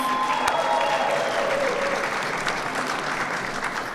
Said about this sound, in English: let's go ahead and give them another round of applause.